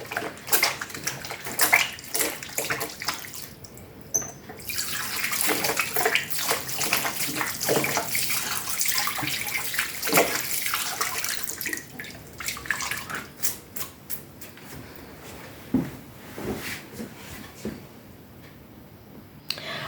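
Hands washed under a running tap before an obstetric examination: a continuous close gush of water with splashing and uneven bursts as the hands move through the stream, no talk.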